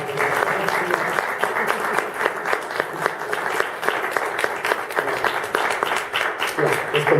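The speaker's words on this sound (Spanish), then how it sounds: "Un aplauso, ¿no?" Audience applause at a Spanish-language book presentation, a steady wash of many hands clapping that fills the room for several seconds, fairly loud and continuous with no voices over it.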